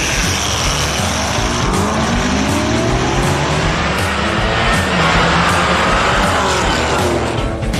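Drag race cars, including a Dodge Viper, roaring down the strip in a loud, sustained blast of engine noise with rising revs and faint tire squeal, close and unbroken, no voices.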